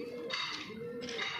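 A Punjabi pakke challe pigeon coos softly, with two low, short cooing phrases heard faintly against quiet background noise.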